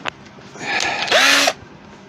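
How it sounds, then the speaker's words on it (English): A power drill whirs briefly, then bites into wood with a louder, higher whine for a moment before stopping, close up. "Now I need to drill a hole in that"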